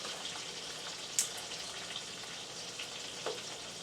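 Garlic frying in a pan beside a pork chop, potatoes, zucchini and brussels sprouts meal; a soft, steady sizzle with faint scattered pops and crackles, close by and quiet, with no talking.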